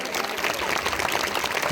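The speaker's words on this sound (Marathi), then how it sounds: "या आयोजनासाठी एक जोरदार टाळ्या होऊन जाईल" An audience at a Chhatrapati Shivaji Maharaj Jayanti gathering applauds loudly and evenly, a dense, continuous patter of many hands throughout.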